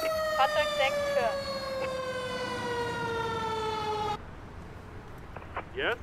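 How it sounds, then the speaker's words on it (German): An American-style fire truck siren in the firefighting simulation game Emergency 4, a loud wailing tone sweeping steadily downward for about four seconds, then cutting off sharply, with faint speech and short horn-like blips around it. "Die Sirene fand ich echt geil."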